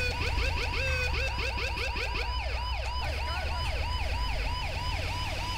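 A wailing siren from a Mercedes-Benz Sprinter ambulance in GTA V cycles up and down continuously and loudly, layered with a second warbling siren tone over a low engine rumble.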